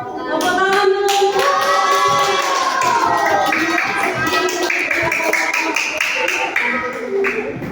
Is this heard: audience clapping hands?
yes